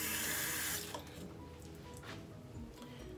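Tap water runs from a faucet into a sink to wet a toothbrush, a strong rushing stream that cuts off after under a second, leaving faint drips and quiet handling sounds.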